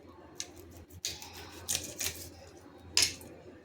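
Scissors snip the spines and fins off a boitha fish, a few quiet separate crisp cuts and clicks spaced irregularly, close but faint, with no talk.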